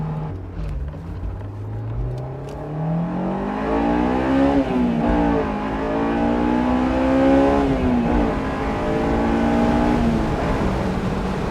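A 2000s Honda S2000 AP1 engine pulls hard through the gears, its note rising steadily, dipping at each shift and rising again, heard from inside the car at close range.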